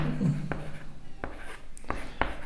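Writing on a board during a class 9 maths lesson, with several crisp, separate taps and short strokes spaced irregularly, close and fairly loud over a low room hum, no speech.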